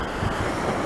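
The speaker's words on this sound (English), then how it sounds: "A little loud because of the waves." Waves on a lake at 6 p.m. in April, a continuous loud wash of water with rumbling wind noise on the microphone, no voice over it.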